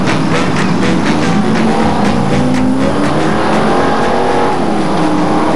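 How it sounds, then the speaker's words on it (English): Hotstox race cars circling on a rolling lap at Scunthorpe, a loud continuous roar of several engines with rising and falling revs as the pack rumbles past nearby. "Starting the rolling lap for the newcomer of the year."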